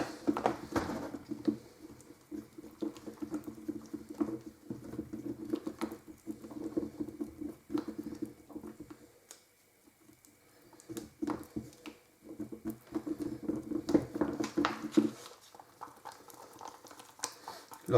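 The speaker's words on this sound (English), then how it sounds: "all you do then is just give it a good mix" Two-part resin stirred with sand into a gritty paste for beach or desert scatter terrain, giving steady wet scraping and patter close up, with a quieter pause midway before the mixing picks up again.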